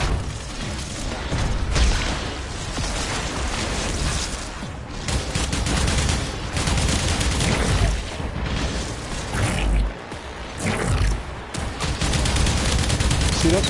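The Corvus gun fires in Warframe in near-continuous volleys of loud shots with heavy booms mixed in, the barrage running almost nonstop with only brief dips.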